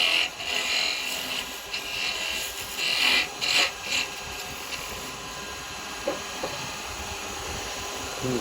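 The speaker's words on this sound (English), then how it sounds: "now come in with the parting tool" Parting tool cutting into wood spinning on a lathe, a close, steady scraping hiss with brief louder bursts as the blade bites, over the continuous hum of the lathe motor.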